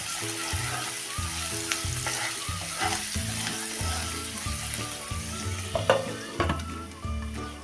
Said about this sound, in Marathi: एक पाच मिनटं थोडं परतून आपण झाकून ही डाळ चांगली शिजवून घेऊया